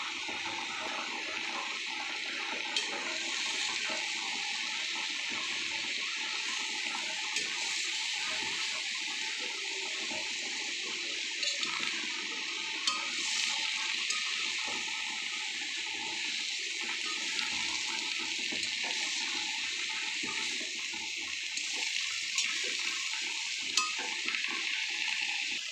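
Vegetables with salt, turmeric and green chillies being stirred in a kadai, a steady sizzling hiss running continuously with faint scraping and clinking throughout, no voices.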